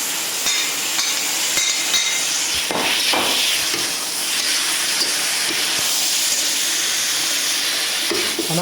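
Mixed peppers stir-fry in a wok on an induction burner, a steady close hiss and sizzle with scattered metallic clinks and scraping of the utensil against the pan throughout, no voices.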